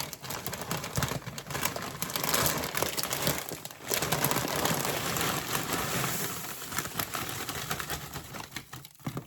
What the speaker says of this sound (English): We're going to stick these into a gallon Ziploc bag